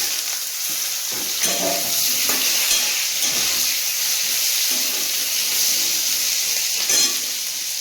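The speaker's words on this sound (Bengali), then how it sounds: "ভাজা ভাজা হয়ে গেছে সবজিগুলো দিয়ে দেবো" Fried vegetables go into a hot pan and sizzle loudly while a utensil stirs and scrapes in irregular strokes, close and continuous, without talk.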